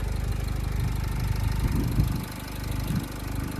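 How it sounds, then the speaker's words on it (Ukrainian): Nissan Qashqai J10 2.0 diesel with automatic transmission and 4WD, a 2012 car, idling with a steady low diesel clatter and rhythmic knock, heard up close and alone with slight swells in loudness. "Дуже класно та надійно працює двигун."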